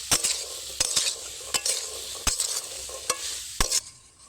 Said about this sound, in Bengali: নামিয়ে একবার দুবার ভালোভাবে নেড়ে নিচ্ছি।